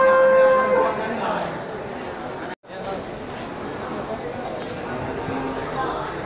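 Water buffalo at a livestock market in Aceh, with a busy crowd murmuring and someone talking close by over the steady outdoor hubbub.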